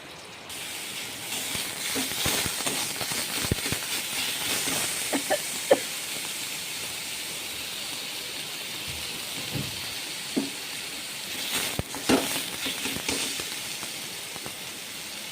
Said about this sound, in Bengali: তেলটা গরম হয়ে গেছে, এখানে শুকনো লঙ্কা পেঁয়াজ দিয়ে দিয়েছি